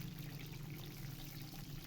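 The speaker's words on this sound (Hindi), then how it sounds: "2 टेबलस्पून तेल शामिल करा" Cooking oil pours into a pan for chicken fried rice, a soft steady trickle that is faint and continuous for a couple of seconds, with no voices.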